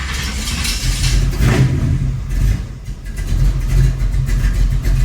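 The engine of a Chevrolet Nova project car runs loud and close, rising and falling in a few rough rev swells over a low, rumbling idle.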